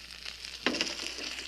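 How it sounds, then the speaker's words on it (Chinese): A cod fillet dry-frying in a pan over low heat, a soft continuous sizzle that jumps into a sharper crackle partway through, then settles back to a steady fry with no talk. "让这一面也给它这个接一层皮，然后改成小火慢慢的再煎。"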